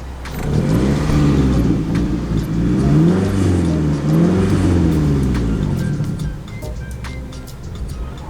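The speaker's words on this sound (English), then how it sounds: "Yeah, it's idling fine now." Scion tC engine running after air filter and MAF cleaning, a steady close motor hum with wavering, rising and falling tones through the middle, then settling lower, with faint voices underneath.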